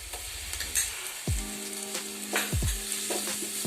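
Onions sizzle and fry in hot oil for a chicken fry dish, a steady close crackle broken by a few stirring scrapes of a spoon in the pan, with no talking.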